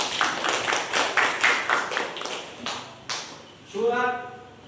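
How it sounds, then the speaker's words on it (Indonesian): A small classroom group claps for a classmate who has just recited a surah, several loose rhythmic claps that taper off, then a voice begins speaking. "tepuk tangan untuk teman kita"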